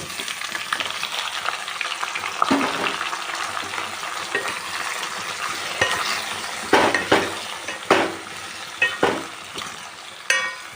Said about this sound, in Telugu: ఉల్లిపాయ పోపు కాగింది తాలింపు వేసేసుకున్నాం ఇవి కూరగాయ ముక్కలన్నీ వేసేసి